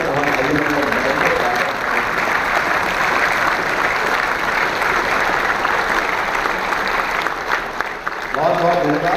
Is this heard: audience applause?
yes